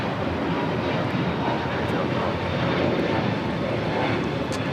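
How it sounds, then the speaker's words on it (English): Delta Airlines A321neo jet taking off from LAX toward Tampa, a broad steady roar of engines filling the whole stretch at moderate distance, with no speech. "This is Delta Airlines 1179 taking off to Tampa, Florida on an A321neo."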